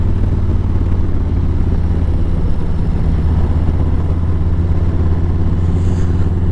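A Harley-Davidson CVO motorcycle cruises on back roads, its low engine rumble and wind noise loud and constant throughout with no pauses.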